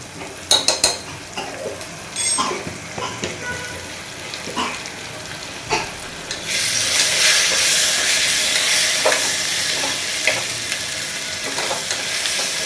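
Masala with ginger garlic paste cooking in a pan: a spoon clinks and scrapes against the pan in short bursts at first, then a loud, sustained sizzle rises as the paste hits the hot masala and is stirred.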